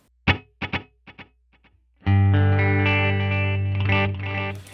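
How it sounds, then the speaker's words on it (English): Electric guitar with delay from an HX Stomp: a few plucked notes echo away, then a sustained, layered chord rings out with repeating, shimmering trails. "this is what my delay sounds like on top."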